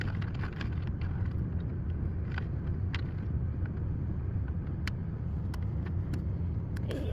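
A Dewalt DCC020IB 20V cordless air compressor inflates a tire, giving a continuous, steady motor drone with a low rumble that holds at the same loudness throughout, with no talking.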